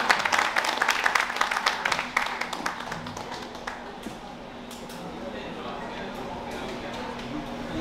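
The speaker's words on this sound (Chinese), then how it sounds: "我想大家以热烈的掌声来" An audience at a summer camp opening ceremony in New York claps warmly. The burst of applause is dense at first, then thins to scattered claps and fades into room tone, with a voice speaking over it.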